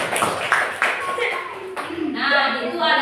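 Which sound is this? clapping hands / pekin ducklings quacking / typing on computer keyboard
clapping hands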